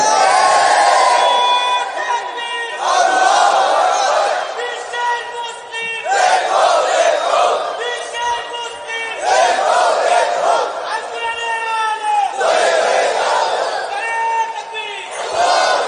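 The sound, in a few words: crowd chanting takbir in response to a call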